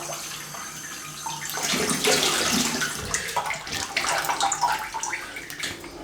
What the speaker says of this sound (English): let's have a cold water rinse